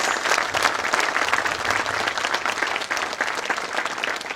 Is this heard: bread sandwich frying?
no